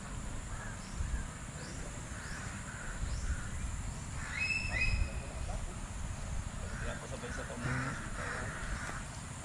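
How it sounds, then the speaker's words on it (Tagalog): Several crows caw in scattered bursts across open countryside, some near and some farther off, over steady low rumble and background noise, with people talking in Filipino now and then. "Daming uwak."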